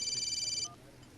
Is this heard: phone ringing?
yes